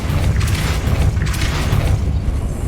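A Depulso spell cast in the Hogwarts Legacy video game lands as a dense, rumbling magical boom with mechanical grinding, loud and sustained for a few seconds.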